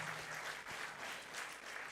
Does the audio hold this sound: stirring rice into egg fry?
no